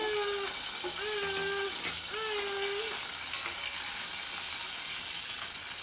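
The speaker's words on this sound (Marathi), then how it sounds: "आता आपण तेलामध्ये कढीपत्ता टाकून घेऊया आणि टोमॅटो हा असा उभ्या स्लाईसमध्ये कापला तो सुद्धा आपण टाकून घेणार" Curry leaves and sliced tomato frying in oil for a Malvani-style surmai fish curry, a constant close sizzle with a few stirring scrapes, overlaid early on by a sustained tonal whine, no speech.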